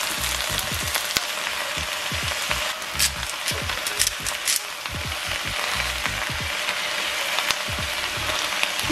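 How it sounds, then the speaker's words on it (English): Onion, garlic and spinach sauté in a skillet with a steady, close sizzle and frequent sharp crackles and pops across the whole stretch, with no talk over it. "So I'm gonna saute this for a few minutes"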